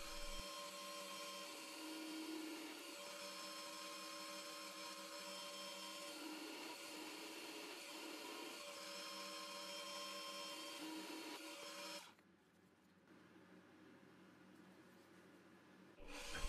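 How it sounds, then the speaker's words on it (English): A steady, whining electric drill runs continuously at close range for about twelve seconds, drilling holes in the side pieces of a case, then cuts off, leaving a quieter hum. "For the push-button switches, I drill holes in the side pieces of the case."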